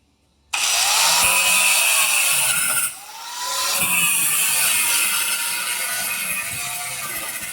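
Power tool cutting a half-circle notch in metal during an air ride suspension install on a 1966 Chevelle, a loud steady grinding whine that starts abruptly, dips briefly, then runs on continuously with no talking.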